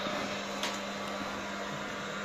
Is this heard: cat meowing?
no